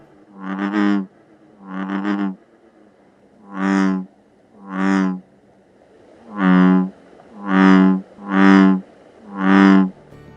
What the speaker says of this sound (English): listen for its loud, low-pitched bellowing call